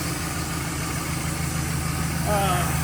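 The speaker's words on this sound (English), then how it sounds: "There's the Jake brake working, doing its thing." A 5.9L HO Cummins diesel in a Dodge Ram 3500 with a six-speed manual runs with its Jake brake engaged, giving a steady low droning rumble close by that swells slightly louder near the end, with no talk over it.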